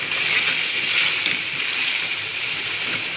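Kaleji palak, liver and spinach, frying in a pan with a steady, even sizzle and hiss that runs unbroken and fairly loud throughout, with no voices.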